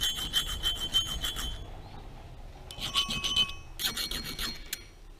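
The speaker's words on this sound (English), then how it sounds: "Yeah, it's filing." A file rasps on metal from the apron of a Pratt & Whitney Model B lathe, bursts of short rhythmic strokes in three groups separated by pauses, close and fairly quiet.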